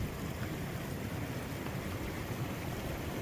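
A stream crossing a hiking trail at Mather Pass on the Pacific Crest Trail, a steady broadband rush of flowing water, fairly quiet and unbroken, with no voices.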